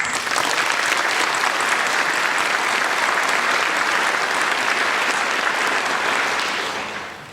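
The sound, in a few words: commencement audience applause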